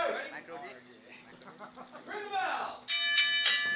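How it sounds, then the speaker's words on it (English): A bell rings three times in quick succession to open a semifinal match at a live gaming tournament, loud and bright after commentators talking excitedly. "Ring the bell!"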